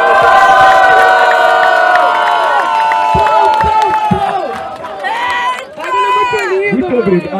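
A large crowd at a rap battle roars and cheers continuously, loud and close, with shouting voices swelling and fading over about seven seconds.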